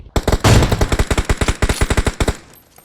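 Automatic gunfire in PUBG Mobile, a long rapid burst of loud, close shots in an even rhythm, followed by a second burst and then a short tail of echo, with no voices over it.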